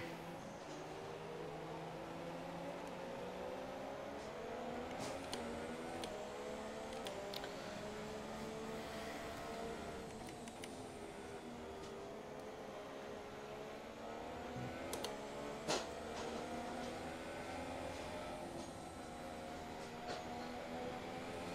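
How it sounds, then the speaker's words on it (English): Simulated Ferrari Formula 1 car engine from the F1 2017 racing game, a steady high-pitched whine with rising and falling revs across gear changes, loud and continuous throughout with no talk. "this does not sound the same as the real-world Ferrari F1 car"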